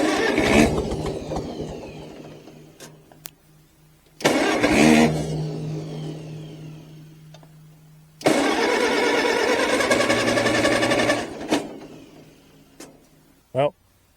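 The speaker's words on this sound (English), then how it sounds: "The International 300 does run, does move around." An International 300 tractor engine cranks and catches in several tries, then settles into a loud, steady close-up running rumble before cutting off; someone talks between attempts.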